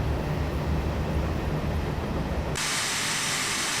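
A steam locomotive in the Railworks train game lets off steam freely, a loud broadband hiss that swells abruptly near the end, over a low rumbling engine bed, with no talking.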